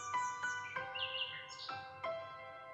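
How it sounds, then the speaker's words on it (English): A parrot chatters in a series of short, bright chirps and warbling whistles, about five quick calls close by with no talk over them. "Perry chattered away, imitating the sounds of the rainforest with joyful enthusiasm."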